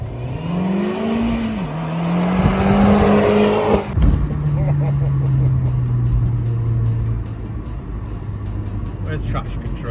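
A modified 8L-generation Audi S3 pulls hard in first gear: a loud, close engine tone climbs steadily in pitch, breaks at about four seconds, then settles into a lower, steady drone with faint voices in the background.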